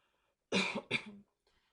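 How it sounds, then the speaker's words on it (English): Two quick, close coughs in a row, sharp and throaty, followed by quiet. "Hold on, I got a cough again."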